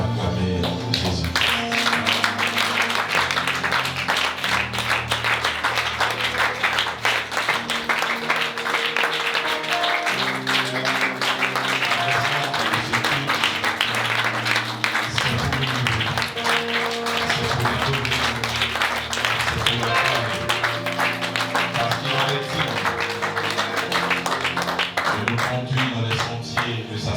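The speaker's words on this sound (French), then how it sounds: "Nous continuons d'acclamer Jésus." Church congregation acclaiming Jesus with sustained applause and clapping over loud music with steady bass notes and voices, the crowd noise continuous and dense throughout.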